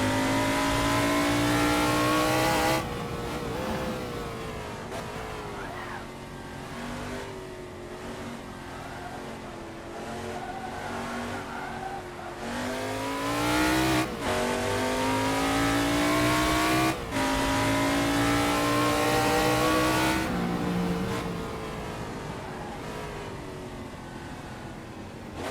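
Formula 5000 race car in the Assetto Corsa racing game, its loud engine rising and falling through sloppy gear changes with occasional wheel lock-ups, running continuously and close with no talk.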